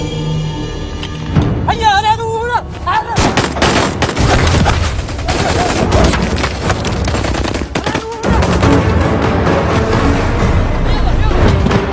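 In a war film, armed civilians open fire: after a quieter musical opening, loud and dense bursts of shots roll on continuously, with booming hits mixed in.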